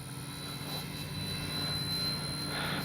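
A Dynam F6F Hellcat, a radio-controlled scale model of the World War II Pacific fighter, flies overhead with a steady electric propeller drone that holds level and swells slightly near the end, with no talking.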